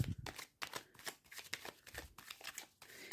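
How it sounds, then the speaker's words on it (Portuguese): A deck of tarot cards is shuffled by hand close up, a quick series of crisp riffling and flicking bursts separated by short pauses, quiet and alone without talk. "eu vou começar a embaralhar"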